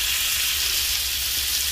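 Butter sizzling in a frying pan while an omelette sandwich is cooked, a steady close hiss of frying fat that continues evenly without pause.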